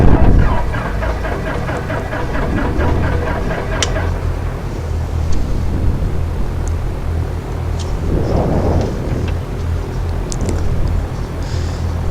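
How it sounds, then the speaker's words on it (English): A Cessna piston engine in the X-Plane flight simulator cranks with a rapid, evenly pulsed starter rhythm. It then catches into a steady, loud low drone that holds to the end, with a few faint clicks from the cockpit on top. "and we have the engine running."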